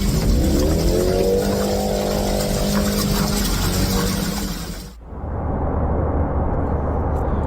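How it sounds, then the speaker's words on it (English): A race car engine on an ice track roars loud and steady with a rising harmonic whine, then cuts off abruptly midway before a broad, constant engine noise continues. "Yeah, they got ice racing."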